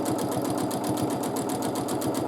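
A sewing machine stitches a one-sided curled feather in free motion quilting, its needle beating a fast, even mechanical rhythm that runs steadily and close-up throughout.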